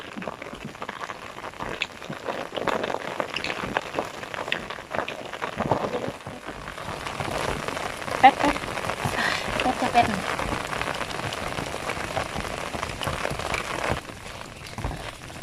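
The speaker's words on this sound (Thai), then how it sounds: "ฝนเริ่มมาแรงแล้ว" Heavy rain falls steadily on a small home garden where beans are being picked, a dense, continuous hiss throughout with a few brief voices under it.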